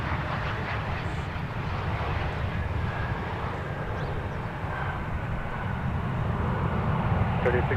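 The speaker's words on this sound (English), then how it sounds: "about to touch down is Delta Flight 2229 from Sacramento, 73-9" A Delta 737-900 arriving from Sacramento touches down at Minneapolis–St. Paul Airport, a steady distant jet roar with broadband rumble, heard over a continuous background hum.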